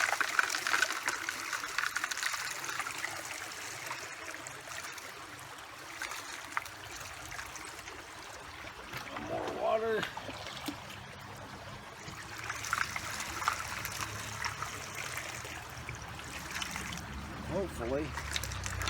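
Creek water washing and trickling over rocks during gold sampling, a steady broadband wash that swells around the middle and again later, with someone talking intermittently over it.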